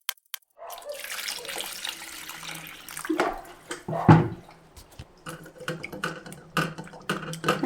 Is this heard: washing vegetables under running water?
yes